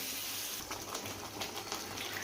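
Water rinsing out cooking vessels and pouring into a pan of frying mushroom masala, a brief close splashing gush with no talking.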